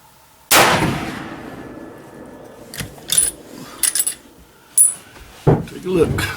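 One loud, sharp rifle report from a Ruger No. 1 single-shot rifle at a shooting range rings out and decays, followed by quieter metallic clicks and clatter of handling.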